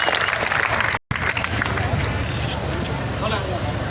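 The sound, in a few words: crowd applauding at a rally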